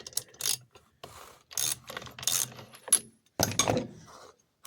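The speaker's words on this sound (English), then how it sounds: "So then we'll just take our 3/4 inch socket" A 3/4 inch socket and ratchet working out the spark plug of a Stihl MS260 chainsaw: close bursts of rapid ratchet clicking separated by short pauses, with a louder metallic clatter toward the end.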